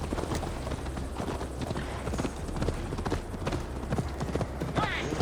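Horse hooves clip-clopping steadily at a riding pace in Assassin's Creed Valhalla, close and continuous with light tack rattle, a faint background bed beneath.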